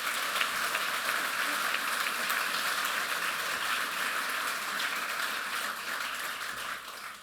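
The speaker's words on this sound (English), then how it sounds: "So give her a big clap." A conference audience at an education forum claps steadily for a recent law graduate, a dense, even wash of applause filling the whole stretch without pause, with no talk over it.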